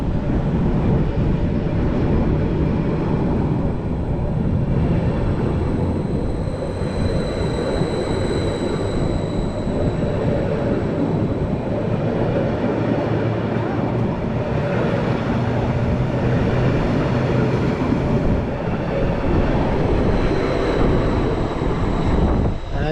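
A Stadler Flirt passenger train running slowly between Ipswich and Felixstowe, heard from inside as a continuous low rumble and hum with steady wheel and track noise, no voices.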